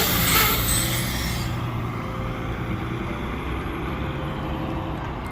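A Nova bus pulls up to a stop with a loud hiss of its air brakes at the start, then its engine keeps up a steady low rumble with traffic noise close by.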